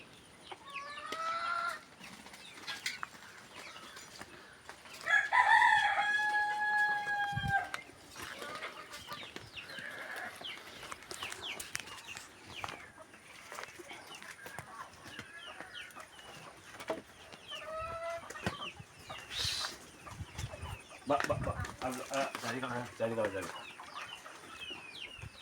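Native country chickens on a farm cluck and crow in repeated bursts, one loud rooster crow standing out among scattered nearer and farther calls, with occasional talk in the background.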